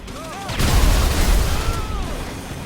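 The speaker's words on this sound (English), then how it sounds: "they got a grenade launcher!" Grenade launcher explosions in the video game Grand Theft Auto V, a loud deep boom with rumbling blast noise that swells and lingers, with brief whistling tones in the background.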